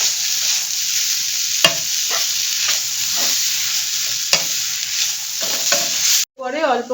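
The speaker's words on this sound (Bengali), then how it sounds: "বেসনটা এমনভাবে ভেজে নিতে হবে যাতে বেসনের কাঁচা গন্ধটা না থাকে" Gram flour roasting in a pan while being stirred, a loud continuous sizzle with repeated soft scraping strokes and two sharp clicks, then a brief pause and a short different sound at the end.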